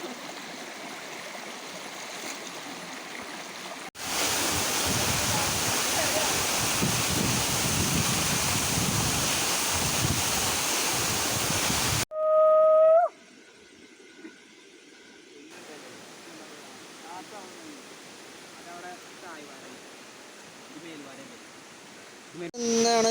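Paaloorkotta waterfall in Kerala rushes as a broad, steady roar of falling water for several seconds, then drops away into quieter outdoor ambience with a brief tonal sound and faint background voices.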